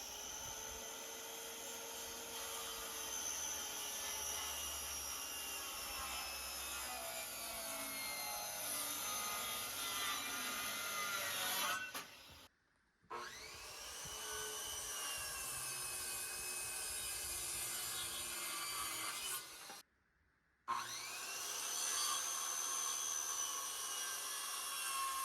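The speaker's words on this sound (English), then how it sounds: "We are now cutting all of the roof rafters on the front side." A power saw cutting wooden roof rafters on a building's front side, a loud sustained whine that runs long, stops briefly, resumes, then cuts out once more before starting again.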